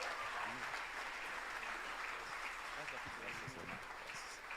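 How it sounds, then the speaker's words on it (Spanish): Church congregation claps at a worship service, a sustained, fairly faint round of applause with voices speaking underneath. "Demos un aplauso al Señor por la vida del siervo del Señor."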